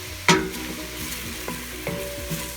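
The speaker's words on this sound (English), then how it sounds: "I'm gonna let it saute for another few minutes. I'd like to get those onions sweetened up" Onions sautéing in a pan on a hot gas stove, with a sharp utensil knock on the pan at the start and a few lighter taps and stirs over a soft, steady sizzle.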